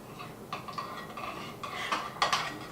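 A spoon stirs a slime mixture in a bowl, giving soft, repeated clinks and wet scraping strokes in an irregular rhythm, close and fairly quiet.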